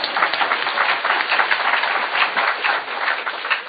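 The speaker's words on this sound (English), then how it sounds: "which is worth a round of applause" Sustained applause from an audience at a panel discussion about epilepsy, a dense, steady wash of many hands clapping at moderate loudness with no voices over it.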